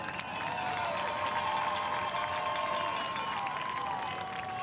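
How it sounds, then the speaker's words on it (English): A crowd at a football all-star bowl game sends up a steady, distant roar of cheering and applause, with a sustained whistle-like tone running through the noise. "Let's get a round of applause, make some noise for Team Tigers"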